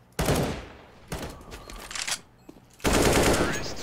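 AK rifle gunfire in a Counter-Strike-style video game comes in three loud bursts of rapid automatic fire, separated by brief quieter gaps.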